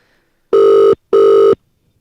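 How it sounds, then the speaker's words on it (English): Two loud electronic phone rings, each about half a second long, separated by a short pause, with silence before and after. "You might be able to hear the rings."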